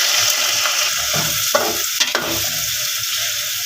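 Boiled mutton frying in a pan with browned garlic, a steady bright sizzle with several sharp clatters and stirring scrapes of a spoon against the pan, close and clear with no voices.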